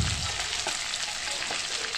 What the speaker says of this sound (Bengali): এবার পটলগুলোকে এরকম লাল লাল করে ভেজে নেবো।